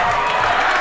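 Basketball crowd in a school gym roaring after a dunk, a dense, sustained wash of cheering and shouting, loud and close.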